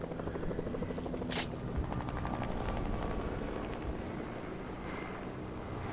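Helicopter rotor drone in the video game Fortnite, a steady loud whirring wash that fills the whole stretch with a brief sharp burst near the start and no voices over it.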